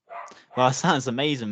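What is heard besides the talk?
dog barking in the background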